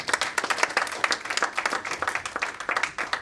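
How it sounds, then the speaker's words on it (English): An audience applauds the speakers at the end of a panel on Israeli-Palestinian relations: a steady round of many hands clapping, moderately close, with no talk over it. "Let's give our speakers a round of applause"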